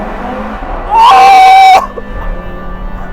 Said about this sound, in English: pray silence for 5-cylinder turbocharged noise in a tunnel